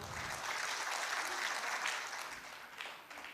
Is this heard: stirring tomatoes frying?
no